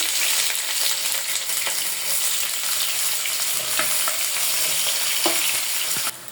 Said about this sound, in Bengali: এই তেলের ভিতরেই রান্নার জন্য পেঁয়াজ দিয়ে দেবো আধা কাপের মতো